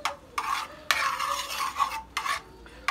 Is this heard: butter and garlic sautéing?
yes